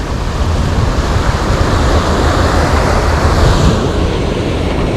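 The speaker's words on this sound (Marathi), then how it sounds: "त्याचा खवललेला समुद्र आहे भरती लागली पाण्याला खतरनाक लाटा मारतात" Rough sea surging at high tide on a rocky fishing spot on the Konkan coast, a loud, continuous wash of crashing waves with wind buffeting the microphone and no voices.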